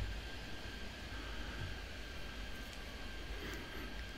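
An airliner engine at a busy airport in an air traffic control game, a steady broadband roar with a faint high whine, continuous and unchanging for several seconds.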